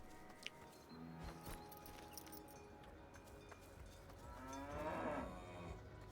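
Cows moo in a video game, with one long, fairly faint low moo swelling near the end over quiet ambient game sound and scattered small clicks.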